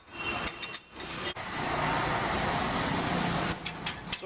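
Tools working on car tires at a service shop for a long road trip, a steady dense mechanical whir and hiss running almost continuously with brief gaps, loud and close, no talking.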